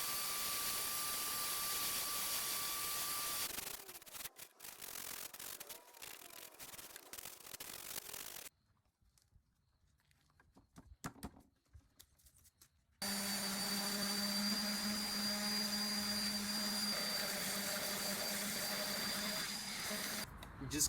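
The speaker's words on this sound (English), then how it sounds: "We just got everything sanded" Wooden furniture being sanded during restoration, a steady abrasive whirring drone in two long stretches, with a much quieter gap of scattered scrapes and rubs between them, close and prominent.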